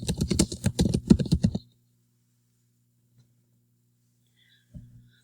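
Rapid keystrokes tapped on a computer keyboard while entering spreadsheet figures, a quick run of close clicks lasting about a second and a half, then quiet with a soft tap near the end.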